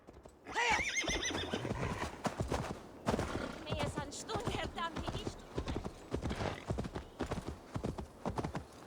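In Assassin's Creed Valhalla, horse hooves clip-clop steadily and a horse whinnies loudly, amid busy game sounds, while someone talks over the action.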